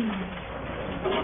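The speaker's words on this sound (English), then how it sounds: "There goes the bird." Pigeon or dove cooing in short low calls, close and fairly clear, with a faint second coo near the end.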